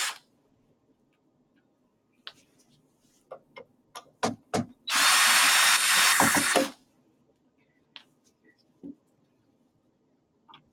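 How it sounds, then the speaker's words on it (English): A handheld power drill whirs in one sustained burst of about two seconds while removing screws during disassembly of an SHHD1619DG appliance, surrounded by scattered clicks and taps of handling parts in a quiet room. "As I work with my power drill,"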